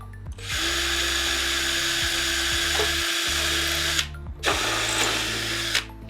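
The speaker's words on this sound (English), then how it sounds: "So I'm now following up drilling with the bigger drill bit." A steady, loud power drill with a bigger bit whines continuously while drilling holes in carbon fiber aero parts on a BMW E92 M3, briefly cutting out twice before spinning up again.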